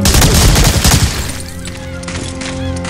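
Dense, loud gunfire from Medal of Honor: Allied Assault, a rapid burst of automatic shots for about a second, then ringing echoes and scattered softer shots with game audio underneath.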